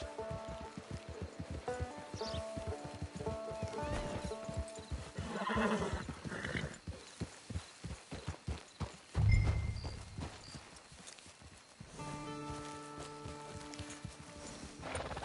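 In a video game, a horse's hooves clip-clop in a steady rhythm, broken by repeated neighs and whinnies, with a stretch of rushing water or rain beneath; fairly close, with no talk.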